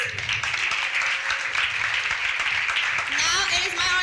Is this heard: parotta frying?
no